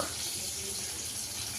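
Tap water running steadily into a sink while dishes are washed, a constant close gushing hiss without pause.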